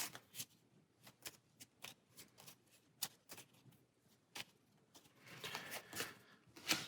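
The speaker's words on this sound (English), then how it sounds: "Hard to shuffle just 2 cards" A small stack of just two playing cards shuffled by hand, producing a run of soft, quick papery flicks and snaps at close range, fairly quiet and irregular, with no talking.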